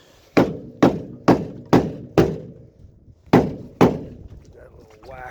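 Seven hard hammer whacks on dented sheet metal, five in a quick steady rhythm, a short pause, then two more, each a sharp close clank with a brief ring; a voice briefly follows.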